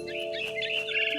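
Bird chirping in the video game What Remains of Edith Finch: quick high twittering calls repeat throughout, layered over a steady, sustained musical drone.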